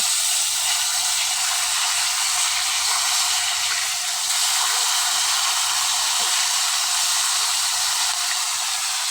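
Fish frying in a pan, a loud, steady, bright hissing sizzle heard close up and continuing without a break throughout.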